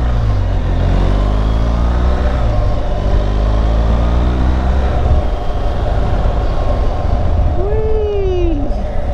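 A BMW R1200GSA motorcycle on a test ride pulling away, its boxer engine rising through the revs over heavy wind rush, with a voice speaking near the microphone and a brief whistling whoop near the end.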